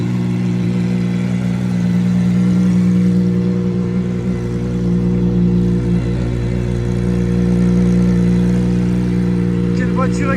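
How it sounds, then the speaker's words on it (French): A Gordon Murray T50 with a Cosworth V12 engine, heard on a street in Cannes, holds a loud, steady, close engine drone with a rich, even tone for about ten seconds, with no sharp rev spikes. "Quelle voiture exceptionnelle ce V12 Cosworth."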